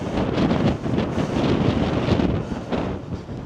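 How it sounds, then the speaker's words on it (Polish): A strong mountain wind buffets the microphone with a constant loud roar and gusty rumble, nearby and steady throughout. "Kurczę, strasznie wieje"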